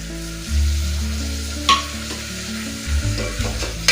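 Onions and tomatoes fry in a pan with a steady sizzle while a utensil stirs them, scraping and clinking a few times close up.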